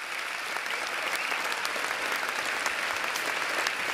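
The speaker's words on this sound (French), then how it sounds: "On peut les applaudir très très fort, s'il vous plaît." Dense, sustained applause from a large audience at a graduation ceremony, honouring the organising team, filling the hall evenly from start to finish.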